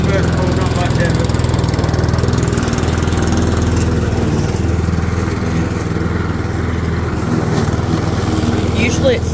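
A petrol Aldi Gardenline lawn mower runs continuously after starting on the first pull, its loud, close engine drone holding steady throughout.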